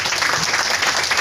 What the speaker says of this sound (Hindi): तालियां हो गई मुझे अपने आप ही।